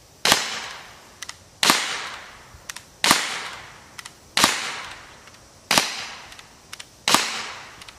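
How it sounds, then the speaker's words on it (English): A TR50 .50 caliber CO2 revolver fires polymer rounds: six sharp, loud cracks spaced about a second and a half apart, each followed by small clicks of the action, with no talking. "we're going to start out with a polymer, and we're going to put six rounds in it,"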